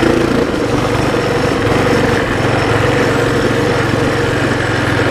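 A brand-new engine on a Baja Warrior minibike runs at a steady idle, a loud, close, buzzy small-engine drone with an even rhythmic putter throughout.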